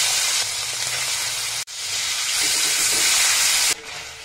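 Prawns fry in hot white oil in a wok, a loud, close, hissing sizzle that cuts out briefly and then returns just as strong before easing slightly at the end.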